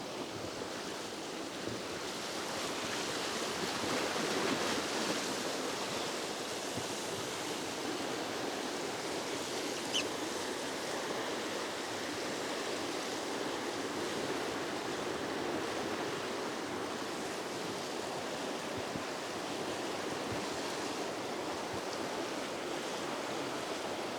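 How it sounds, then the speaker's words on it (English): Whitewater rapids on a river, a dense, continuous rushing roar of churning water heard up close at a fairly even level throughout, with no voices over it. "we're about to go down this little rapid right here"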